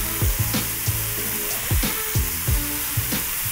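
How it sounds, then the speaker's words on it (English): Beef sizzles loudly in a hot pan, a steady hiss with crackles, broken by repeated scraping strokes of a utensil stirring the food. "You're gonna see the smoke, hear the sizzle, it should be really dramatic."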